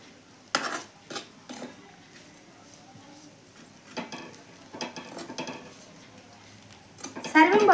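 Cluster beans being stirred as they fry in a pan, with a spoon or spatula scraping and clinking against the metal in scattered bursts over a faint sizzle, close and fairly quiet.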